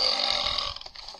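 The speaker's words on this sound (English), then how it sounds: "No, it's making me burp." A single loud, drawn-out burp, close to the listener and heard alone.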